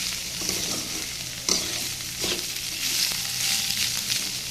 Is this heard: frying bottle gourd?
yes